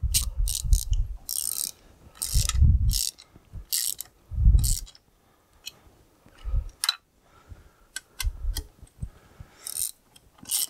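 A torque wrench tightens clutch bolts on a David Brown 990 tractor, giving loud, close ratcheting clicks in short bursts separated by pauses, with metallic tool clatter between them.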